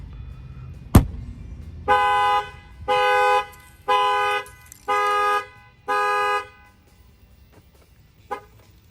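Factory shock-sensor alarm on a Chevy Silverado Z71 pickup: a sharp thump, then five loud, evenly spaced horn blasts about a second each, followed by a couple of fainter short chirps.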